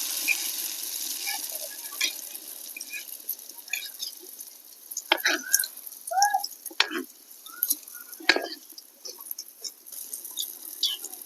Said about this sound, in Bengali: এখানে একটা করে পিঠে ভাজছি আর বারবার ব্যাটারটা নাড়িয়ে নিচ্ছি।